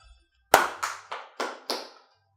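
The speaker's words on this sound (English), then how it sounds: "Please clap." Five sharp hand claps in a slow, even rhythm, close and fairly loud, with no talking.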